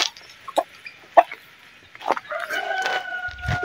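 Backyard roosters crow while chickens cluck in short bursts, with scattered calls near and far that rise into a longer crowing stretch toward the end, in a quiet midday farmyard.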